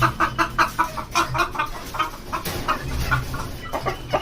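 Egyptian Fayoumi chickens cluck repeatedly close by, a busy run of short calls from several birds overlapping in an uneven rhythm, with no talking.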